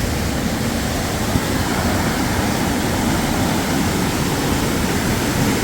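A swollen mountain stream rushes near Pinkham Notch on the Appalachian Trail, a loud, constant broadband roar of water with no pauses, close and dominating.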